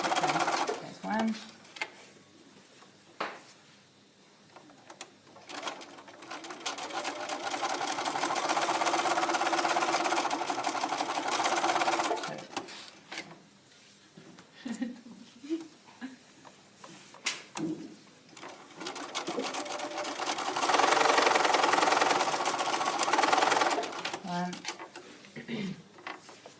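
Sewing machine back stitching a welt opening on a cape, running in two long steady bursts with short stops and clicks between them, close and clear.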